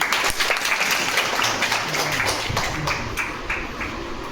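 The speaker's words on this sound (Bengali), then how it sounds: "জোরে হাততালি হোক ওনার জন্য" A seated crowd at a district marketing management gathering in Malda claps for the managing director, a brisk, even wash of many hands that holds steady and slowly tapers off.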